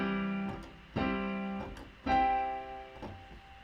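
A major triad in root position sounds on what seems to be a piano: three separate struck chords about a second apart, each decaying steadily, with a fainter fourth attack near the end. No one speaks.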